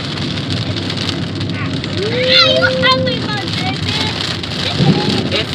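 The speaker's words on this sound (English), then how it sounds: "it's definitely lightning and thundering out here." Outdoors during a lightning storm, steady rain hisses continuously at moderate loudness, with a brief rising tonal whine partway through and some muffled background activity.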